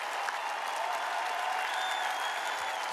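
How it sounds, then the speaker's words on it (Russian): A concert audience gives sustained applause for the singers, loud dense clapping from a large crowd filling the hall evenly throughout. "Давайте поприветствуем всех их аплодисментами."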